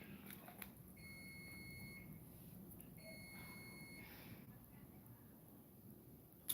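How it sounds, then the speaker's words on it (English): A kitchen stove emits faint electronic beeps, a couple of sustained tonal pulses about a second long each, heard quietly over low room noise. "Why is my stove beeping"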